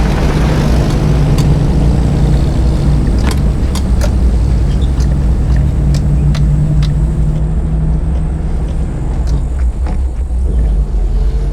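A 1982 Toyota Land Cruiser FJ60 drives down a dirt road, its engine a steady, loud low rumble with road noise and occasional rattles and knocks from the cabin and suspension, no talk.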